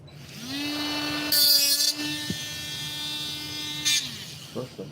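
A power tool fitted with a flap disc spins up to a steady whine and grinds a light housing, with two harsh scraping bursts of contact before it winds down and stops.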